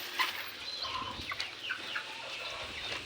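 Fighting cocks cluck and crow softly while being fed outdoors, with a few brief, faint calls standing out over a low steady background hiss.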